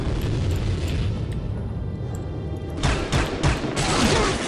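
Anti-aircraft guns in the shooter Soldier of Fortune fire in a dense, continuous barrage of booming shots, with louder clustered bursts in the latter half of the clip.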